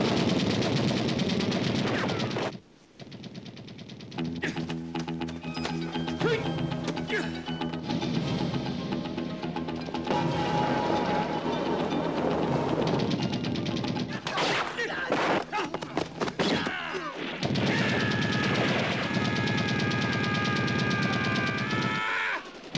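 A war-film battle scene featuring Sammo Hung, Lam Ching Ying and Yuen Biao fills with dense, loud gunfire and machine-gun bursts, layered with dramatic music, thuds and crashes, and broken by one brief pause.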